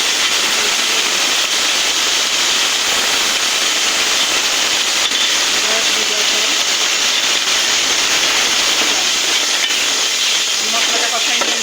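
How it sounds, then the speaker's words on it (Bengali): Water hitting hot ground spices of salt, turmeric and coriander in a pan, a steady broad hiss and sizzle that holds evenly throughout, close and loud. "দিয়ে আমি এবার পানি দিয়ে দেবো যাতে মশলাটা না পড়ে।"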